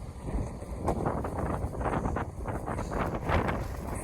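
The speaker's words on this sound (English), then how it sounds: "It's really windy." Wind gusts buffet the microphone with continuous low rumbling and rustling, no voices present.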